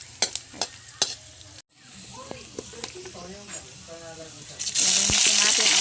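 Garlic and onion sautéing in a pan before squid goes in, stirring scrapes and taps near the mic, then a loud burst of sizzling toward the end, with someone talking.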